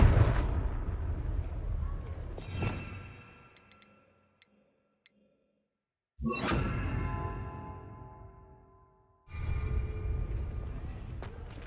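Confringo fire spell from a Harry Potter video game: loud whooshing explosive blasts with long roaring decays, two big bursts separated by a near-silent gap with faint clicks, and a third blast at the end.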